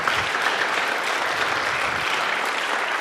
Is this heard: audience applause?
yes